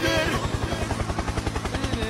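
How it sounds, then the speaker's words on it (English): A helicopter in the Roblox video game gives a rapid, regular rotor thumping that chops along steadily through the whole short stretch, moderately loud. "Helicopter, helicopter."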